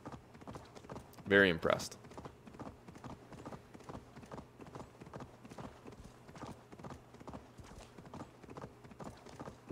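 Horse hooves clip-clop in a steady, even rhythm throughout a ride in the video game Assassin's Creed Valhalla. The hoofbeats stay soft and regular while someone talks briefly over them.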